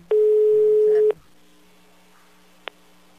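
A telephone ringing tone on a prank call: one long steady electronic tone lasting about a second, then quiet line hiss and a short faint beep.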